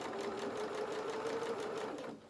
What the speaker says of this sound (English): We've got quite a small stitch going on my machine at the moment